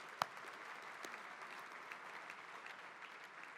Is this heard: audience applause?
yes